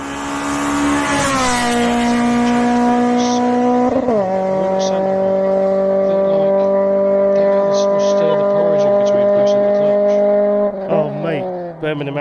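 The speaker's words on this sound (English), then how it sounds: "did you hear the VTEC donk, though?" A Honda B-series engine revs hard and loud, its pitch climbing, dropping sharply at a gear shift, then holding high as VTEC engages, with brief tire-like squeals near the end and people talking over it.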